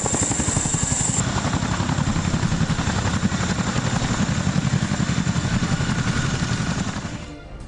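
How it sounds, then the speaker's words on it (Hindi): A Chinook helicopter flies nearby with a loud, steady rotor thump and engine roar that holds throughout before easing off slightly at the end, with no voices. "ये वही चिनूक हेलीकॉप्टर है जिसका इस्तेमाल अमेरिका ने खूंखार आतंकी ओसामा बिन लादेन को मारने के लिए किया था।"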